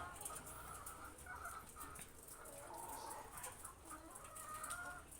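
Laying hens in a poultry house cluck and chatter continuously as a dense, fairly distant flock, with steady background noise and no clear talking.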